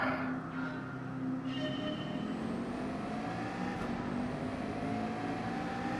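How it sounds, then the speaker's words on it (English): Race car in Gran Turismo 7 pulling away from the starting line, a steady engine drone with gear-like tonal lines climbing in pitch, moderately loud and continuous, alone without talk. "this car has not got great acceleration off the line"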